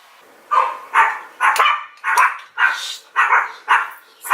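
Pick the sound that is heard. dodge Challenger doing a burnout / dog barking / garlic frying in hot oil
dog barking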